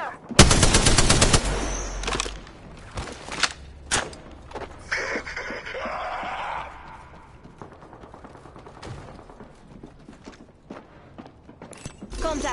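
Automatic gunfire in Apex Legends, loud close bursts in the opening seconds followed by scattered shots and thuds, with sporadic fire continuing at lower level through the rest of the firefight.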